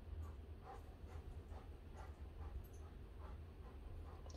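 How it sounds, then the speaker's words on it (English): A dog pants in the background of a quiet room, a faint, rapid rhythmic huffing repeating steadily over a low hum, distant and soft. "you could probably hear my dog panting in the background"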